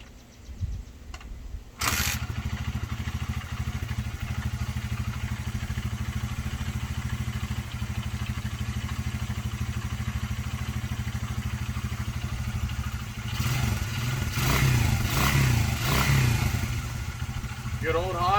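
A 1977 Honda XL75 motorcycle, stored a long time and choked, is kick-started with a couple of clunking kicks, then catches and settles into a steady close, loud single-cylinder idle, with a few revs near the end.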